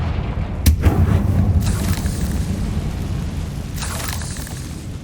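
A Confringo fire spell exploding in Hogwarts Legacy gameplay: a sharp blast followed by a deep rumbling boom, then a second burst rising near the end, over a loud continuous game soundscape.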